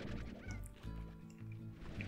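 Chickens clucking in the video game Slime Rancher, a few short bird calls over a steady low game hum, fairly faint and alone without talk.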